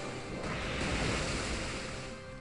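Waterfall attack sound effect from a Pokemon battle game, a broad rushing water surge that swells and then fades over a couple of seconds, loud and alone with no voices.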